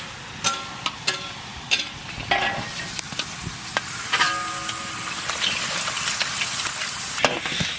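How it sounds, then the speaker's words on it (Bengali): Papad frying in hot oil gives a continuous bubbling sizzle with sharp intermittent crackles and clicks, close and fairly loud, with no voices. "পাঁপড় ভেজে নেব"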